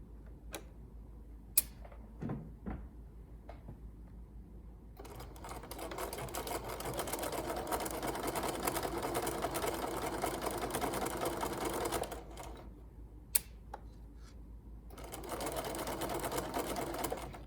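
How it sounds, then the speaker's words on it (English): A sewing machine runs a straight regular stitch on a flat felled seam, stopping and starting with brief back stitching bursts at the ends; steady mechanical whirring for several seconds, pauses with a few clicks, then resumes, fairly close. "now I'm going to do a regular stitch, back stitching at both ends to finish it off"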